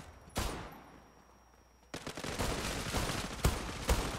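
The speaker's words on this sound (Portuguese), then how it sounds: "Dois tiros. Não morreu." Gunfire in the online shooter Zula, a single sharp shot followed after a pause by a burst of rapid automatic fire with a few louder cracks, close and loud, no talking.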